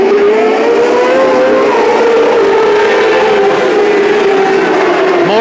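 600 micro sprint race cars roar around Petaluma Speedway in a main event, a loud continuous engine whine with pitch rising and falling as the cars drag down the backstretch, one engine note sweeping across near the end.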